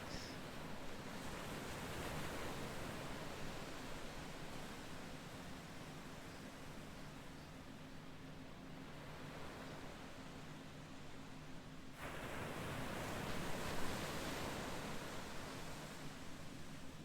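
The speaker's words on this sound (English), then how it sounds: "I guess listening to the waves" Ocean waves wash in a soft, continuous hiss of surf, fairly quiet and distant, with a gentle swell in intensity near the end and no talking.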